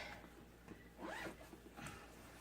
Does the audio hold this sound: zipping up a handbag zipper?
yes